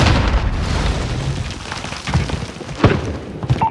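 An airstrike in Call of Duty: Modern Warfare lands as a series of booming blasts over low battlefield rumble, with the heaviest thumps clustered toward the end and no voices heard.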